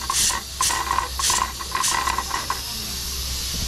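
Steady bubbling hiss of a pot of beef bulalo soup with corn at a rolling boil, with recurring bursts of sharper hissing steam, close and fairly loud.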